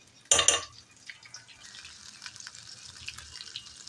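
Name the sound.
draining boiled food through a strainer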